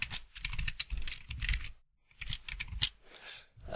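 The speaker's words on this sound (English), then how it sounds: "just type a title, whatever title you want in there." Fingers type on a computer keyboard in quick, uneven bursts of clicking keys, pausing briefly midway before the tapping resumes, close and fairly quiet with no voices.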